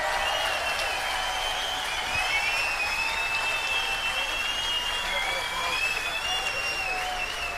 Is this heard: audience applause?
yes